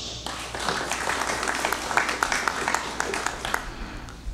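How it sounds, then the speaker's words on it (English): Legislators and guests in a Congress special session chamber break into a collective round of applause, dense clapping with sharp individual claps standing out, sustained for several seconds before tapering near the end. "giving them a round of applause"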